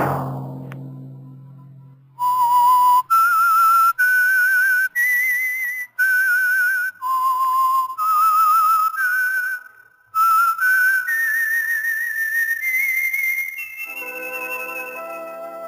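A clear whistled melody, one sustained note after another with short breaks, loud and alone, ending on a steadier held tone.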